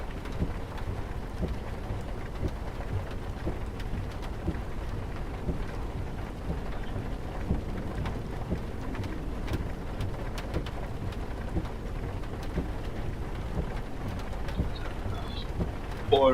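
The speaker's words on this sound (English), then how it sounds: "Pouring rain. Pouring rain." Pouring rain drumming steadily on a truck, a dense continuous patter with rumbling low noise throughout.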